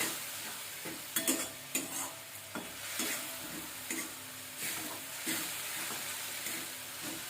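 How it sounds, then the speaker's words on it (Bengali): Coriander leaf chutney stirred in a hot pan gives soft scraping strokes over a steady sizzle and hiss, with several sharper clatters of the spoon against the pan early on, close and moderately loud. "নাড়তে হবে"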